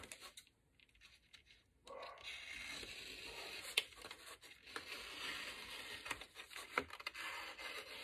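Scissors cutting through wrapping paper along a line, soft rasping paper rubs and scraping cuts, close and fairly quiet in an indoor room.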